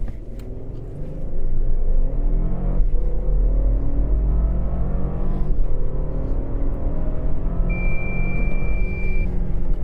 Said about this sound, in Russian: Сейчас попробуем отснять разгон до сотни.